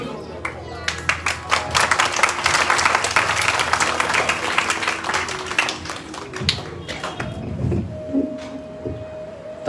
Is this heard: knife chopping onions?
no